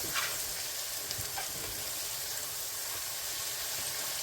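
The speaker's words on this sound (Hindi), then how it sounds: "बस मसाले को भून के फिर हम भिंडी शामिल करेंगे।" Spice masala with tomato sizzles steadily in a pan for bhindi masala, a dense, continuous hiss with faint stirring scrapes and no voices.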